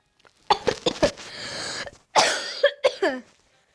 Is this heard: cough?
yes